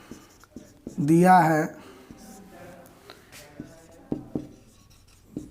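Pen scratching across paper while a math teacher works through a geometry problem, soft intermittent strokes and taps running beneath a teacher's spoken explanation.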